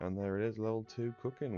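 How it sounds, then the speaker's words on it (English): A cat meows loudly and insistently, overlapping a person talking nearby. "I apologise if you can hear my cat going mental in the background."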